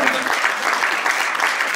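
Conference audience applause at PIN Conference 2022, a dense, steady wash of many hands clapping at fairly close range, sustained without pause.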